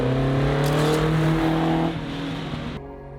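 A 1972 Porsche 911 2.4 E rally car with a 2.7 RS engine, competing in a snow and ice historic rally, drones loudly at steady revs, then eases off and fades until it cuts away near the end.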